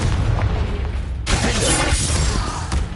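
Confringo spell blasting in the Hogwarts Legacy video game: a loud booming explosion erupts partway through over a busy, rumbling battle background, then rings out in a dense, sustained roar.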